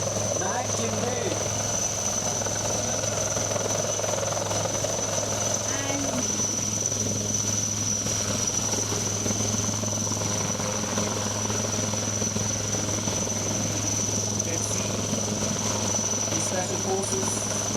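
An Indian Air Force advanced light helicopter at a military anniversary event, its rotor and engine droning steadily and loudly throughout with a high whine on top, while commentary carries on over it.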